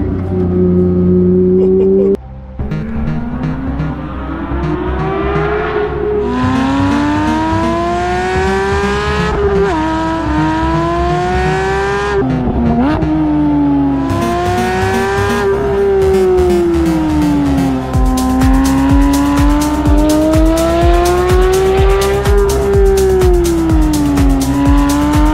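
Porsche GT3 race car accelerating hard through repeated gears, its engine note climbing and dropping in long sweeps, very loud and close from inside the car with faint tire squeal, no talk.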